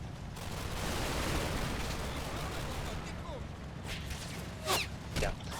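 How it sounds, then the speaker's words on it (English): Heavy machine gun fire rattles across a battlefield in the Combat Mission wargame, a dense, sustained roar of gunfire with sharper individual shots near the end, while someone talks quietly over it. "HMG fire at another thing"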